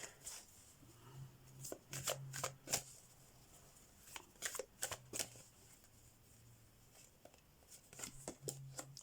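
A deck of oracle cards being shuffled close up, in several quick riffling bursts separated by short pauses, quiet with low background hum.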